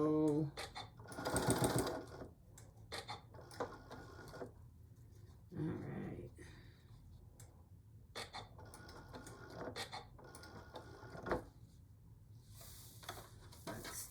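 A sewing machine stitching a potholder with a pocket, heard as several close, rapid mechanical runs of stitching with short pauses between them, mostly alone with some handling noise.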